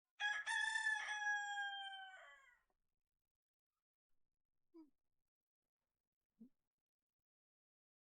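A fighting rooster crows loudly and close by, one long harmonic crow lasting about two and a half seconds, followed by a few brief faint clucks and rustles in otherwise quiet surroundings.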